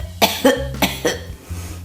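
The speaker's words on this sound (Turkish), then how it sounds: "Öksürün lütfen." Four close, sharp coughs in quick succession, each a short harsh burst with brief pauses between.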